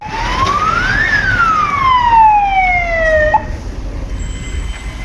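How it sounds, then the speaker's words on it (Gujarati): An ambulance siren wails loudly and up close on a potholed road in Gujarat: one long tone rises and then slowly falls, with steady traffic rumble underneath. "આ જુઓ 25 મિનિટે તો એમ્બ્યુલન્સ આવી"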